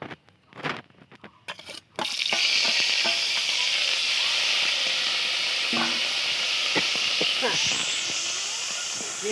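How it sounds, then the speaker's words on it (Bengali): Chopped onion hits hot oil in a wok with dried red chillies, a few clatters giving way to a loud, continuous hiss of frying that stays strong to the end, with occasional stirring clicks. "পেঁয়াজটা একটু লাল লাল ভাজা হবে।"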